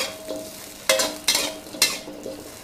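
Shallots, lemongrass and garlic dry-roast in a wok with no oil, a low dry crackle broken by three sharp scraping stirs that flare up loudly and then settle back.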